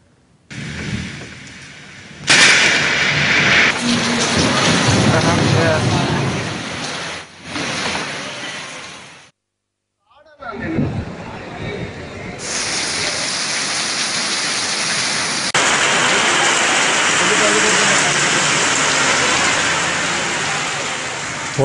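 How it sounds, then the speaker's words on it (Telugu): Heavy rain pours in the Visakhapatnam region of coastal Andhra Pradesh, a dense steady hiss across several separate shots broken by a brief near-silent gap. "విశాఖ నగరంతో పాటు విజయనగరం, శ్రీకాకుళం జిల్లాల్లో భారీ వర్షాలు కురుస్తున్నాయి."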